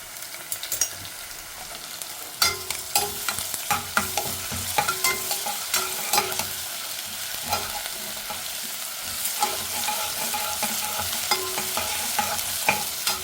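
Ginger and garlic frying with onion in very hot oil, a constant close sizzle punctuated by rhythmic spatula scrapes and knocks on the pan.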